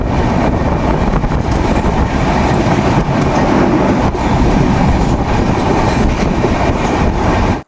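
The Sealdah to Puri Duronto Express runs at speed, heard from inside a coach as a loud, steady rumble with rhythmic clickety-clack of wheels over rail joints and constant carriage rattle, with no voices.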